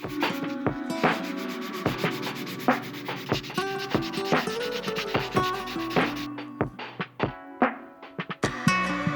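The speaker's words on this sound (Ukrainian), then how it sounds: "Щоб корпус виглядав більш рівним і гладким, ще шліфую дрібнішими наждачками." Rhythmic strokes of fine sandpaper rasp across a small wooden fishing lure body, close and steady, with a few light knocks between the passes.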